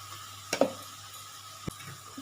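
Soft stirring of thor ghonto, banana stem cooked with peanuts and jaggery in a pan, with a couple of clinking scrapes over a quiet sizzle.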